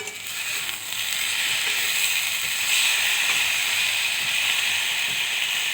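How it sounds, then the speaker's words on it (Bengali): Mushroom curry sizzles steadily in a pan over the flame, a constant hissing fry with faint scraping from stirring and no voices. "ভালো করে নাড়াচাড়া করে ভেজে নিতে হবে"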